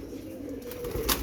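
Pigeons at the Shahdara pigeon market in Lahore, with soft cooing, a low murmur of birds and a brief flutter of wings near the end, fairly quiet and close.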